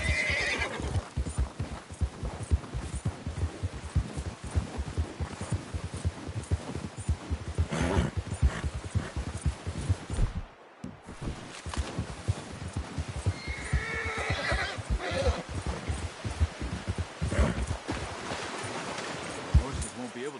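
Horses in a Red Dead Redemption 2 scene: clip-clopping hooves in an uneven rhythm with occasional whinnies and snorts, close and fairly loud, a brief drop-out midway, and voices talking over parts of it.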